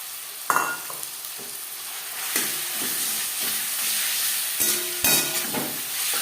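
Marinated chicken stirred into onions frying in a pan for chicken chow mein, with a steady close sizzle and hiss under repeated scraping clatters of the spatula against the pan.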